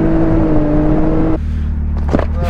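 A buggy's engine drones loudly up close on the road with a steady, strong hum, then drops abruptly to a lower idle-like tone partway through. It is heard alone, with no talk.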